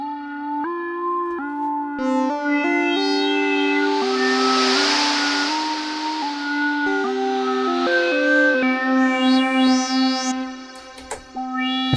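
Synthesized wind from a Roland SH-2000 analog synthesizer: a breathy hiss swells up and fades away beneath sustained, shifting synth notes, loud and continuous, with no voices.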